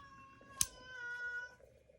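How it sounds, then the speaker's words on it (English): A house cat meows indoors in the background, one drawn-out, fairly faint cry preceded by a sharp click, heard alone without talk. "my cat is meowing right now in the background"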